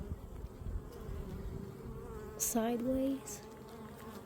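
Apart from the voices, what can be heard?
swarm of honey bees in a hive box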